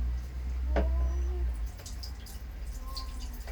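Soapy water poured while cleaning a toilet gives a splashing gush for about a second and a half, then faint drips and trickles, close by, with someone speaking briefly.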